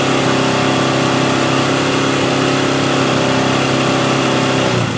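A motorcycle engine running loud and close with a steady, buzzing roar held throughout, easing off slightly right at the end.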